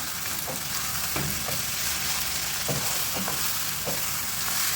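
Marinated chicken fries steadily in hot oil, a constant close sizzle with a few soft knocks as the pieces are flipped in the pan.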